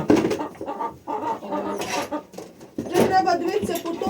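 Chickens cluck and squawk nearby, mixed with people talking over them throughout.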